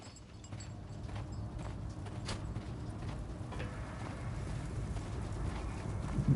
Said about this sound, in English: Horse of Pedro Alvarado.